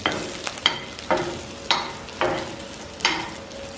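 Spinach vegetable balls frying in oil in a pan, giving a continuous close sizzle broken by about five sharp bursts of crackle and stirring at roughly half-second intervals.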